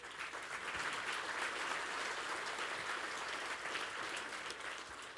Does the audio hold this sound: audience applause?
yes